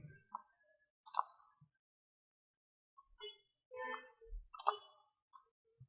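Computer mouse clicks while working in Adobe Illustrator CC: a few crisp, separate clicks with long quiet gaps between them, close and clear, with no talking.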